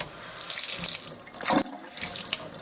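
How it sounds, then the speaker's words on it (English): Water gushes from a kitchen tap in bursts, splashing loudly, dropping out for a moment, then running again. "I'm going to turn the tap on."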